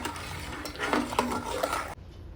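Milk being stirred constantly in a pan over a high flame while making palkova, a soft scraping swish with faint bubbling that runs for about two seconds and then cuts off.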